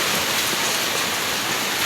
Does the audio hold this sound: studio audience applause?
no